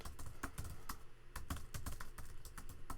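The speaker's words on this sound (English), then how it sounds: "I would type in" Quick, uneven clicking of keys on a computer keyboard, close and fairly quiet, with no voice over it.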